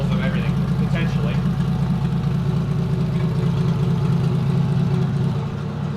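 A Toyota Cressida's 1JZ engine runs steadily at a near, loud, even drone with a low throbbing rumble, as if idling, and a voice speaks over it.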